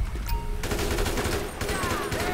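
Sustained gunfire from Grand Theft Auto 5 crackles in a dense, rapid fusillade under an ongoing rampage, moderately loud with steady volume and brief tonal whines in the background.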